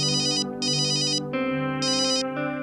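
An electronic telephone ringtone plays alone, a bright warbling chime that repeats in short bursts and alternates with a lower sustained tone, clear and moderately loud in a quiet room.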